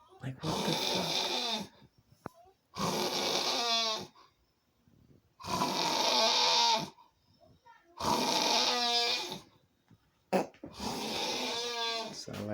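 A man snoring heavily, harsh rattling snores that repeat about every two to three seconds with quiet gaps between, loud and close, alone without talk.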